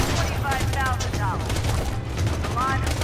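Sniper rifle fire in Borderlands 2, a dense run of sharp repeated shots following one another in quick succession, loud and steady under game effects throughout.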